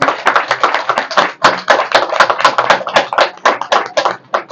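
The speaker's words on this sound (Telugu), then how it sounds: "అందరం క్లాప్స్ కొడదాం" A group claps together at a felicitation held on a terrace garden, the dense applause rising from many hands at once and carrying on steadily, close and loud, with no voices over it.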